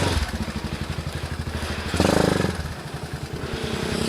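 A Rusi Gamma 200 motorcycle engine chugs nearby with a steady, rapid thumping beat, swelling briefly louder midway before settling back to a throbbing idle, with no one talking.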